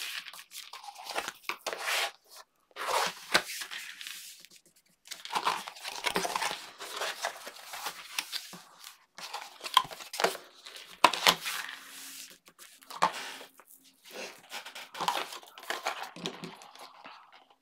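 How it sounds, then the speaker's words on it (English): Paper for a handmade craft accordion album is folded and burnished, giving repeated crisp crinkling and scraping rubs in bursts with short pauses between them, close and fairly quiet. "Fold and burnish."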